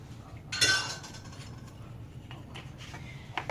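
A tablespoon measuring extra virgin olive oil for pizza dough gives one bright metallic clink early on, followed by a quiet room.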